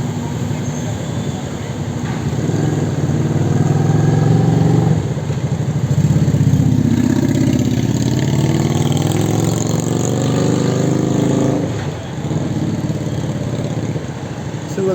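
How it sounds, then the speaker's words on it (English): Motorcycle engine running nearby on a barge among vehicles, a steady loud rumble that swells and revs over about fifteen seconds, with continuous background machinery noise. "We've got a guy on a motorcycle as well."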